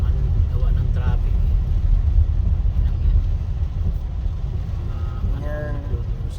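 Heavy road traffic on Commonwealth Avenue in a long jam gives a loud, steady low rumble of car and truck engines, with a voice talking over it.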